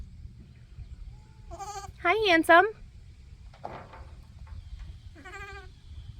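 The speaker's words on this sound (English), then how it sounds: "as you can probably hear, tons of baby goats." Several baby goats on a farm bleat in short, wavering cries, with one loud close burst near the middle and fainter calls before and after, while a person speaks briefly over a low steady background rumble.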